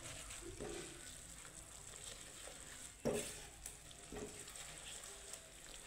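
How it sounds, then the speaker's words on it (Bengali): Spice paste is stirred and fried in a pan. A faint, steady sizzle is heard with a few soft scrapes and one sharper knock, quiet and close, and no one speaks. "মশলার কাঁচা গন্ধ চলে যাওয়া অবধি আমি একটু নাড়িয়ে চাড়িয়ে ভেজে নেব।"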